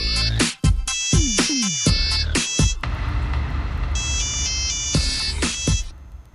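A mobile phone ringtone in a Telugu TV serial scene, a loud electronic melody of repeated chiming tones sounding close and continuous over several seconds.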